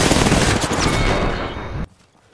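Rapid automatic gunfire in the battle royale game Apex Legends, a loud, dense stream of shots fired at an enemy that runs for nearly two seconds and then cuts off abruptly.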